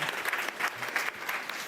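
A live audience claps enthusiastically during a fermentation cooking demonstration, a dense, steady patter of many hands that lasts the whole short moment with no talking.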